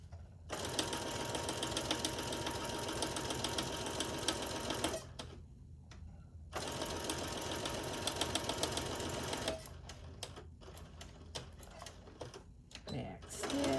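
A sewing machine stitches and back-stitches quilt squares for a Christmas half-square-triangle quilt, rapid needle chatter in two long bursts with a pause between, followed by lighter clicks and handling; a voice speaks briefly.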